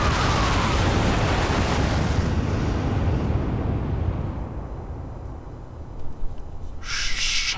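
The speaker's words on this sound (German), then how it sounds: "Lawine! In Deckung!" Avalanche in the video game Far Cry 4, a loud roaring rumble that fills the scene, then thins out and fades before a brief burst of noise near the end.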